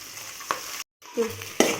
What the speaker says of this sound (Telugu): పోపు వేగిపోయిందండి నెక్స్ట్ ఆనియన్స్ పచ్చిమిర్చి అల్లం ముక్కలు కరివేపాకు